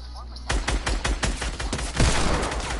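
Rapid rhythmic gunfire in an online shooter played on mouse and keyboard, a steady string of close, punchy shots lasting a couple of seconds.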